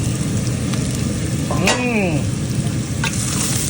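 Chicken fry cooking in a pan gives off a steady, close sizzle of frying, with a brief squeaky scrape of a utensil stirring midway and a light tap near the end.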